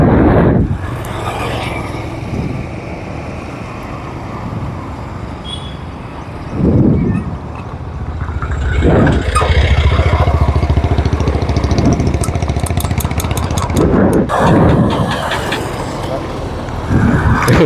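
A Bajaj Pulsar 150 motorcycle engine hums steadily while riding on the road, with a constant low rumble mixed with wind buffeting and a few louder gusts throughout.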